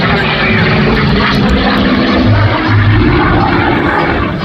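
A Goodyear FG-1D Corsair propeller fighter roars past at an air show, a loud, sustained engine drone that swells slightly, with voices faintly audible beneath.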